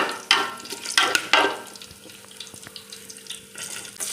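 Cinnamon, cloves and cardamom frying in sunflower oil crackle and spit in a few loud bursts over the first second and a half, then settle into a softer sizzle with light clinks.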